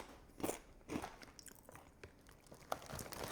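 Twisted queso Doritos chips crunch with a few sharp bites up close, followed by quieter chewing.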